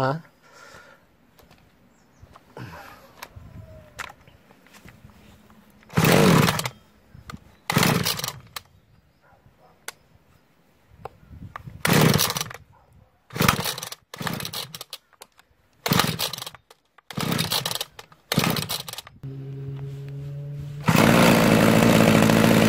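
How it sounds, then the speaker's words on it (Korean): A small farm machine's engine is started, with intermittent mechanical clatter and brief bursts before it catches and settles into a steady loud running drone at the end. "지금 이제 시동을 걸었거든요"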